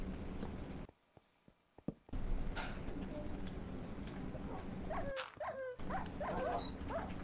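Minecraft dogs yipping and whimpering as they fall into lava, several short high cries clustered near the end over steady game background noise, with a brief near-silent gap early on.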